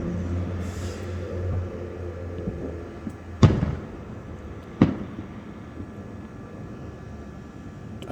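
Fireworks exploding in the distance, two sharp booms a second or so apart over a steady low rumble of background noise.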